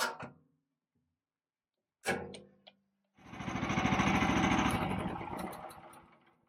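Petrol garden wood chipper set up for making ramial chipped wood in a forest garden. A couple of short clunks come first, then the engine starts and runs with a loud, steady rattling drone.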